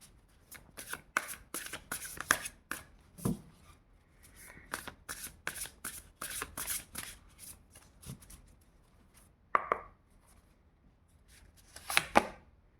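Tarot cards are shuffled close by in repeated bursts of crisp riffling and flicking, with short pauses between rounds and a few softer taps of cards being handled.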